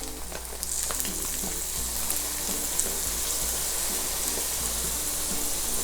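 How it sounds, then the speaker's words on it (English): Chicken bopis frying in annatto oil after a cup of vinegar is poured in, giving a steady loud sizzle and hiss that holds for several seconds with no talking. "I'm going to add 1 cup of vinegar."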